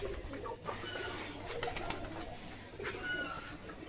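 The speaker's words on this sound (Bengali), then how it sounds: "150-200টার মতো কবুতর আছে এখানে।" Pigeons coo steadily on a Bangladeshi pigeon farm housing about 150 to 200 birds, with soft overlapping calls close by against a faint airy background.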